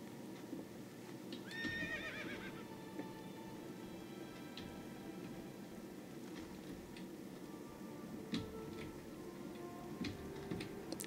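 A horse neighs once near the start in the World of Warcraft video game, a short whinny followed by a steady clip-clop of hooves ticking in an even rhythm under faint game ambience.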